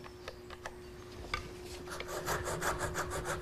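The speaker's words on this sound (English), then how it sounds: "and mark the back side" A wooden tenon for a Morris chair is marked on its back side over a scrap of 1/4 inch wood, giving a string of short, faint scratchy strokes over a steady low hum.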